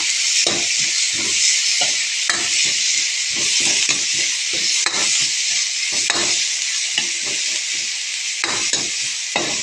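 Chili, shallots and pounded garlic fry in hot oil in a wok for Thai shrimp basil stir-fry. A loud, steady sizzle runs throughout, broken by repeated scraping and stirring strokes, with no voices.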